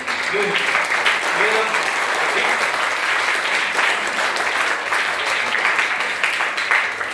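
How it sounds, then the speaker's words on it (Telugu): An audience at a school role play and drama event claps continuously in appreciation, a full, even roar of applause lasting throughout, with faint voices mixed in. "ఇక్కడ యాక్ట్ చేసిన వాళ్ళందరికీ ఏం కావాలనుకున్నారు? క్లాప్స్. That means appreciation."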